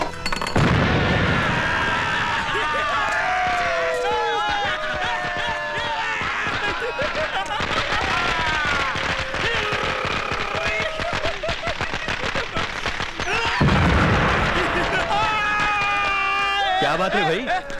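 Firecrackers go off in a Bollywood film scene as a dense run of rapid crackling pops under loud voices and other sound, continuing almost without a break.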